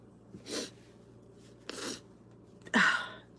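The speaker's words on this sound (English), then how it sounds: "I have to sneeze." Several short breathy bursts build up to one sharp, louder sneeze close by, with quiet pauses between them.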